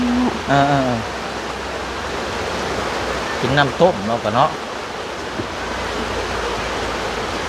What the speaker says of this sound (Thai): ฝนตกแบบซี่นี่ยากเลยเนาะเพราะว่ามันตกหนัก